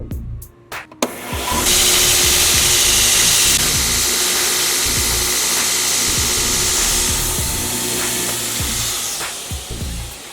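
Power tool spinning a worn wire brush against a steel shelf bracket, a loud sustained whirring grind after a few brief knocks, holding steady at close range before tapering off at the end.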